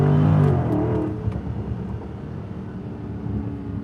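Engine of a 2020 Dodge Charger Scat Pack Widebody sedan, heard as a loud low rumble that swells early and then settles into a steady, slightly rough drone from inside the cabin.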